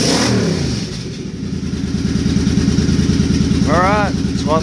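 Suzuki Boulevard C50 motorcycle fitted with a Cobra FI2000 fuel controller and new fuel injection, its engine revving up and holding a steady, loud, close rumble, with a brief human voice near the end.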